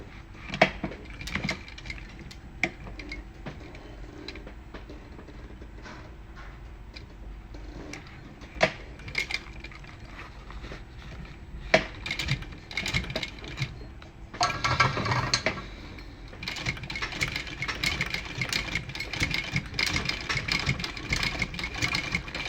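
Sewing machine stitching brown oxford fabric, a mechanical whir that starts and stops in bursts, with a longer steady run of stitching later on, close and moderately loud with no talk.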